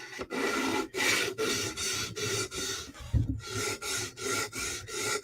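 A Spyderco knife blade is drawn across a sharpener in steady, repeated strokes. About nine close, raspy scrapes come in an even rhythm with brief gaps between them, and no one speaks.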